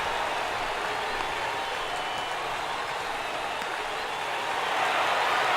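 A stadium crowd cheering and applauding in the baseball video game MLB The Show 18, a steady dense roar throughout that swells slightly near the end, with no talk.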